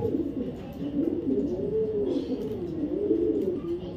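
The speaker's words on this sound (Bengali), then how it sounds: "দেখেন 2টা কবুতর জাস্ট কোয়ালিটি দেখেন" A pair of racer pigeons coo nearby in soft, rolling, repeated calls that run continuously throughout, with no voices over them.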